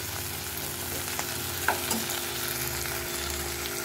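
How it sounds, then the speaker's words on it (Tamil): Anchovy stir-fry being stirred in a pan, a steady close sizzle of frying with scraping spoon strokes and a few sharp clinks against the pan, with no voices over it. "இப்படி வரட்டச்சில் இது அவ்வளோத்தையும் நம்ம சேர்த்து கிளறிடுவோம்."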